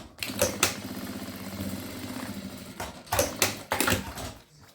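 A sewing machine runs a seam in several bursts, its needle clattering in a fast, even rhythm up close, with short pauses between runs.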